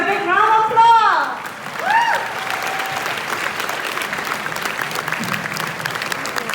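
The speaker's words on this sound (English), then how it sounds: "Give me a big round of applause." A big round of applause after an inspirational speech, steady crowd clapping filling the background while a voice speaks over it at the start and a drawn-out tone sounds briefly before the clapping carries on alone.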